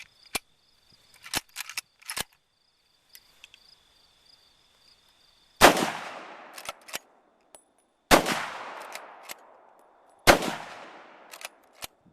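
Three loud, sharp rifle shots from a Model 95 Winchester lever-action rifle crack out several seconds apart outdoors, each ringing into a decaying echo, with lighter metallic clicks of the lever action between them.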